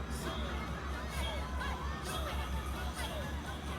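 A dense crowd roars and shrieks without pause at a P-pop performance at WISH 107.5, a steady wash of shouting voices with a low rumble underneath.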